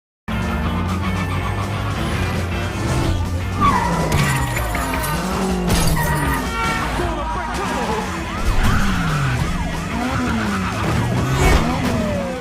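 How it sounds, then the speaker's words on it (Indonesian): Police cars chase a fleeing car, tires skidding and screeching in repeated swooping bursts over roaring engines, loud and close, with sirens and crashing impacts mixed in. "Kumpulan mobil polisi langsung mengejarnya"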